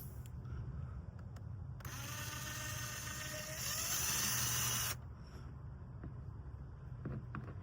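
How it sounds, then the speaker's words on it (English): A power drill bores a hole in a plastic rain barrel, giving a whirring, grinding burst of about three seconds that swells louder near its end, heard over steady low outdoor background noise. "let's drill the hole."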